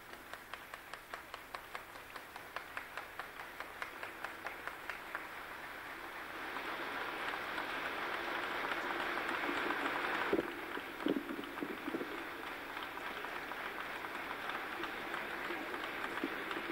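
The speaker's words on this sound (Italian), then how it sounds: "l'applauso dei fedeli" Congregation applauding a newly consecrated bishop at an episcopal ordination in Piana degli Albanesi, heard as a faint, distant patter of clapping that swells in the middle and then fades.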